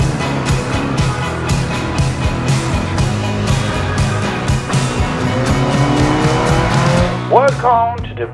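Racing car engines roar loudly on a starting grid, layered and continuous, with tires squealing sharply near the end as the cars pull away.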